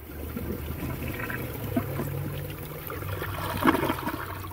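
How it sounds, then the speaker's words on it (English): A 2007 Gerber Allerton toilet flushing a large clump of grass: a close, continuous rush and swirl of water draining, with gurgling near the end. "Let's see if it'll flush."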